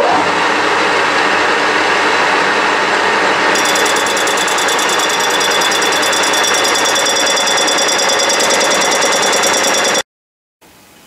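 Lathe taking a roughing cut on a metal hub: a loud, continuous grinding machining noise running steadily for about ten seconds, then cutting off abruptly into near silence before a brief return.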